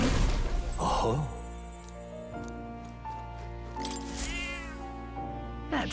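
A cat meows a few short times in the video game Metaphor: ReFantazio, the calls rising over steady game music at moderate loudness.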